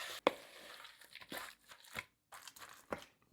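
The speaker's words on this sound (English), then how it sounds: "And now just mix this all together." Shrimp cake mixture tossed with ground turmeric and red chili powder, giving a few soft, irregular crinkling and crunching handling noises, close but quiet, separated by brief pauses.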